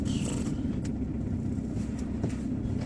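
Inside a moving car on a road near Torrevieja, Spain, a steady low rumble of engine and tyre noise fills the cabin, with a few faint clicks over the even drone.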